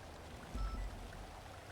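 Faint, continuous trickling and pouring of water in a GTA game world on a NoPixel roleplay server, a soft steady wash with a brief low swell partway through and no talking.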